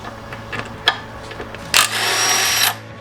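A half-inch deep-drive six-point socket turns a rounded 19mm bolt torqued to 200 foot-pounds. A few faint clicks come first, then one loud whirring, rattling power-tool burst runs about a second before it cuts off. No one talks.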